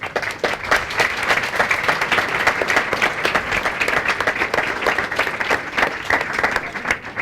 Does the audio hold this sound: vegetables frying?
no